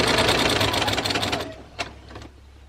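A sewing machine running a fast, even stitching rattle along a dress seam, then stopping, followed by a few faint clicks and handling noises.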